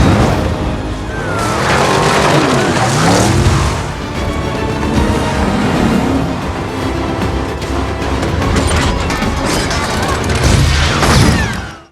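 A modified combat car speeds away in a Fast & Furious action film scene. A loud, dense mix of roaring engine, rumbling booms and crashing impacts runs continuously before cutting off at the end.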